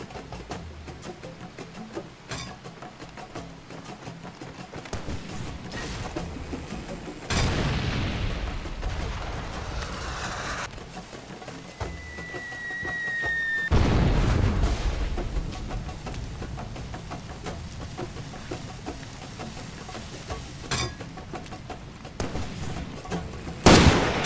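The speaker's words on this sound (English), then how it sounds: "Tired of the mortar shells." Mortar shells explode in the video game Far Cry 2, with several deep booms and rumbling blasts over a steady noisy battlefield background, a loud burst near the end.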